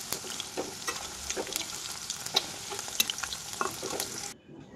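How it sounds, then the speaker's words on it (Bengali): Chicken pakoras frying in hot oil, a steady close crackling sizzle with sharp pops scattered throughout, cutting off abruptly near the end. "এদিকে পকোড়া ভাজা হচ্ছে আর এদিকে খাওয়াও হচ্ছে"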